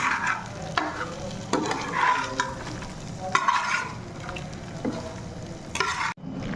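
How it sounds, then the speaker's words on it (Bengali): Fish frying in a pan at home, a steady close sizzle broken by repeated spatula scrapes and turning clatter, moderately loud, with no one speaking, ending in a sudden cut. "মাছ ভাজি হয়ে যায়"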